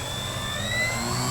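A PA Addiction XL model airplane engine runs steadily and loud, a continuous whine with a slowly rising pitch as it holds a hover, alone without talk.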